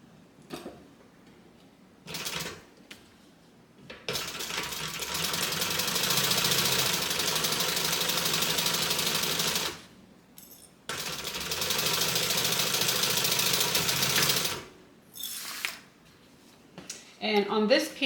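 A sewing machine stitches pieces onto a fabric bag in two long steady runs of rapid mechanical whirring, separated by pauses with brief shorter bursts and some quiet talk in the gaps.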